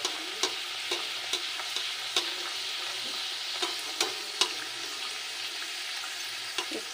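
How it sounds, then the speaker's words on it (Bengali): Green pea kachori frying in hot oil in a wok, a steady close sizzle with light stirring clicks and small spatter pops throughout, no talking. "এবার আমি মটরশুঁটিটা ভেজে নেব, কড়াইশুঁটির কচুরিটা।"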